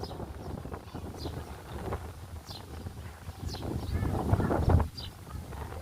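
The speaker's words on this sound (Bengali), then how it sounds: "সুন্দর একটা বাতাস দিচ্ছে আমাদেরকে" Wind rushes and buffets the microphone in a steady low rumble outdoors near a house, swelling louder toward the end before easing slightly.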